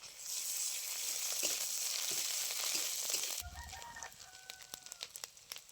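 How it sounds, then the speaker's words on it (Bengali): Onion, green chili and ginger paste frying in a pan, a steady loud sizzle for about three seconds that then drops to softer crackles and pops with faint background sounds. "পেঁয়াজ আদা কাঁচা লঙ্কা খুব ভালো করে ভাজা হয়ে গেছে"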